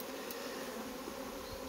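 Honeybees hum in a steady, faint, continuous drone on a frame from a swarm.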